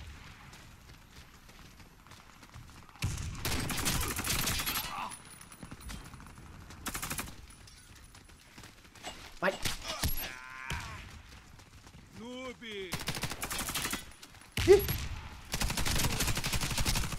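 Bursts of automatic gunfire and single pistol shots in the online shooter Warface on the Dock map during team deathmatch, arriving in several loud rapid volleys separated by quieter gaps.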